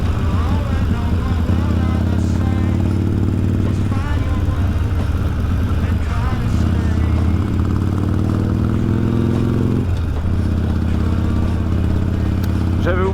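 A Harley-Davidson motorcycle engine drones steadily while being ridden on small country roads, loud and close, with a rider talking over it and the engine note shifting as gears change.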